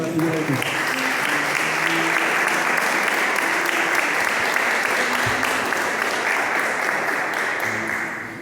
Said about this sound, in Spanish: con un fuerte aplauso para el Señor